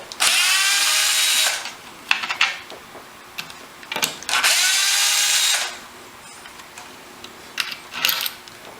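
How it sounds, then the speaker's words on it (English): An electric drill backs screws out of a dining chair frame being reupholstered: two long, loud whirring bursts, separated by short clicks and brief trigger pulses, heard up close. "I'm just going to go ahead and take the other 2 screws out with my electric drill"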